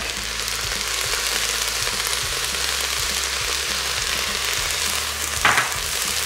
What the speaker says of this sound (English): just saute the veggies for a few minutes until they're nicely softened